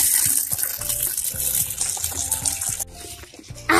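Water gushing and splashing close by, loud and continuous with irregular splashes and knocks, as if filling a tub for bathing a dog.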